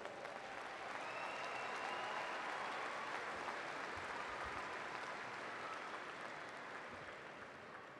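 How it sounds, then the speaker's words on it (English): Commencement audience at a university ceremony gives a sustained round of applause, steady dense clapping from a large crowd filling the hall, loud and even throughout before easing slightly at the end. "Can we give her a round of applause?"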